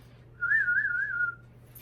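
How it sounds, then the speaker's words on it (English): A single person whistles a short wavering tune, rising and falling a few times, clear and close against a quiet background hum. "I can whistle."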